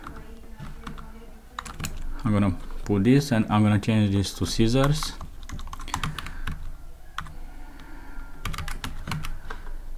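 Rapid typing clatters on a computer keyboard while writing Python code, with a person talking over the keys in the middle stretch.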